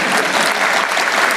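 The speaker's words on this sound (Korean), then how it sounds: "박수 쳐주려고 그러는 거예요?" An audience at a Korean event with President Lee Jae-myung bursts into applause after a remark on balanced regional development, the clapping dense and sustained throughout the short moment.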